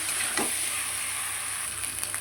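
Potatoes fry and get stirred in a pan for fish-head aloo dum, giving a steady, even sizzling hiss with faint stirring movement, moderately loud and unbroken, no speech.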